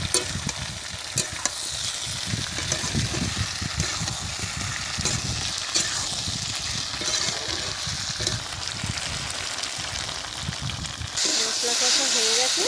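Spice paste of tomato, ginger, cumin and chilli fries in a pan with steady, close sizzling and frequent stirring scrapes, ending in a brief louder hiss.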